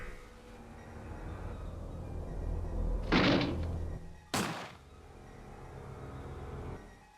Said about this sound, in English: Well, someone just shot something.